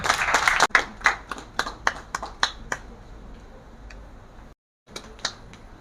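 At an International Women's Day awards ceremony, a thin audience gives a few sparse, distinct claps that thin out and fade, then a short silence and a couple more isolated claps.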